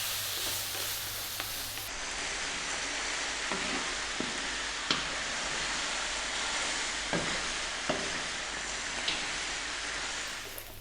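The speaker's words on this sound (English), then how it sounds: "So we're going to fry this around, staying on this high heat for about another, maybe 5 or 6 minutes" Lamb and onions for Ethiopian awaze tibs fry over high heat, giving a steady broadband sizzle with occasional sharp pops and utensil clicks. It carries on alone, with no talking.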